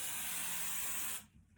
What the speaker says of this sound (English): I'm going to give that a quick spray.